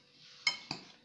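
A spoon or utensil stirs rice and minced meat stuffing for chicken in a bowl, giving two quiet clinks against the dish over a faint background hum.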